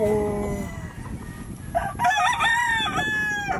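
Gamefarm roosters crow at a farm in Calaca, Batangas, one crow tapering off early and then a louder, closer drawn-out cock-a-doodle-doo with a second bird overlapping, amid a busy yard.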